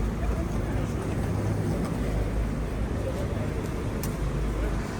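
Power generators drone steadily in the street during a blackout in Lviv, a constant low engine rumble and hum that fills the evening air with no breaks.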